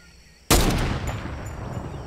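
A single loud gunshot in the video game Fortnite cracks out sharply after a quiet moment, followed by a long rumbling echo that slowly fades.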